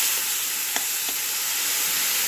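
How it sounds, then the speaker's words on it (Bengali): Boiled taro leaves with turmeric sizzle in a frying pan, a steady close hiss of frying with a couple of faint scraping knocks as they are stirred. "এটা এখন ভালো করে নেড়ে নেব।"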